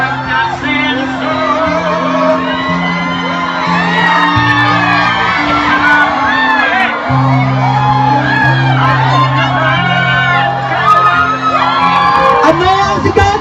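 A large crowd at a Philippine political rally shouts and whoops loudly and continuously, with steady sustained music tones underneath.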